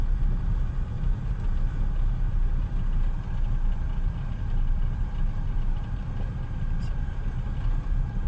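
A vehicle engine runs at a steady low rumble with broadband noise, idling and given gas, moderately close and continuous with no clear revving peaks.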